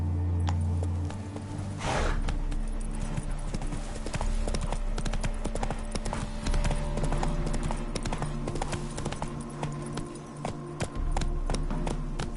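Hooves of Roach, a horse in The Witcher 3, clip-clopping in a steady rhythm on a road, continuous and fairly close, with faint ambient game sound beneath.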